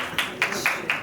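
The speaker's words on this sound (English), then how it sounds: "A little bit of a applause for what a wonderful show" Four separate, evenly spaced handclaps after a fashion show, sharp and close, with a quiet room behind them.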